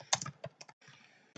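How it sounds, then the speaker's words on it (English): Quiet typing on a Mac keyboard: a short run of crisp key clicks in uneven bursts, close by, with a brief pause in the middle. "We use a Mac keyboard."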